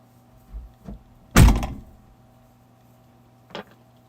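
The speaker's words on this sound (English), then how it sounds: "I need to shut this back door." A vehicle's back door swings shut with one loud, close thunk, followed by a couple of lighter knocks and taps nearby during a morning trail run outing in Grant Gulch.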